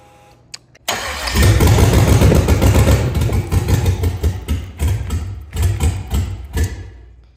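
An LS V8 engine, being set up around a 6-liter PCM, cranks and fires up loudly, then runs rough and uneven with surging, lumpy revs close by, and no talking.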